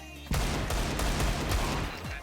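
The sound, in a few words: gunfire from the video game Counter-Strike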